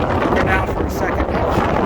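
Wind gusts across a microphone on a hiking trail, a steady broadband rumble and buffeting that stays loud and close throughout with no pauses.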